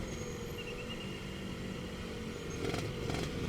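A Suzuki Satria R120 motorcycle fitted with an Andyspeed aftermarket exhaust runs close by with a gritty, steady engine note that swells louder toward the end as the throttle opens.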